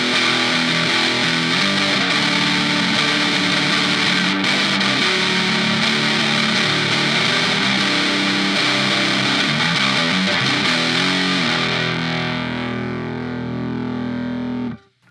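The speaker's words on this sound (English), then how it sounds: "I will turn the distortion all the way up and see how saturated I can get" Electric guitar run through a Donner Extreme Driver overdrive pedal with the distortion turned fully up, a dense, saturated wall of sustained chords with hiss that holds steadily for about twelve seconds, then fades and cuts off.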